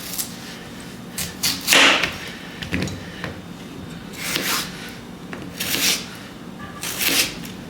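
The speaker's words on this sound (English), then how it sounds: "We're gonna dice these potatoes up." A knife dices potatoes on a cutting board, giving irregular bursts of sharp chopping and scraping strokes with brief pauses between them.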